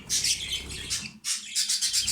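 A hand-fed budgerigar chick gives rapid, high, close chirps in two bursts separated by a brief pause, with no voices.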